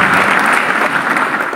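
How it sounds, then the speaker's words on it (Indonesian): A church congregation applauds together, a dense, sustained wash of clapping that stays loud and steady throughout, with no talk rising above it. "Tepuk tangan sekali lagi yang paling meriah."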